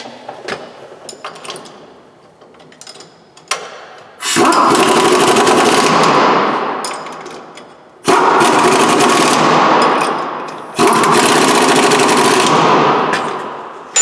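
An impact wrench snugs down ball joint bolts on a Dodge Dakota or Durango, firing in three loud, close bursts of rapid hammering separated by short pauses, with faint clinking of tools before the first burst.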